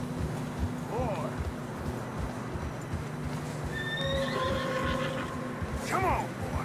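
A horse in Red Dead Redemption 2 whinnies twice in fresh snow, a short neigh early on and a louder, longer one near the end, over steady wind and low game ambience.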